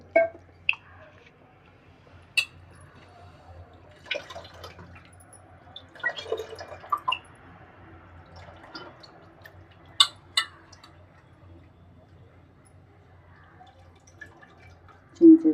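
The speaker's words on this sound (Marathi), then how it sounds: "ते चिंच रगडलेलं पाणी आहे ते पुन्हा आता घालून घेऊ" Tamarind water is added to a Ravas fish curry in a quiet kitchen: scattered drips, small splashes and wet squishes come in short, sparse bursts with near silence between them.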